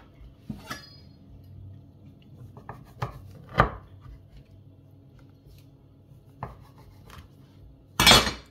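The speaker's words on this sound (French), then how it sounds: "Donc on va couper des tranches." A knife cuts slices from chilled, firmed chocolate chip and orange cookie dough, each stroke ending in a sharp knock on the board, a few spaced cuts close by, ending with a louder clatter.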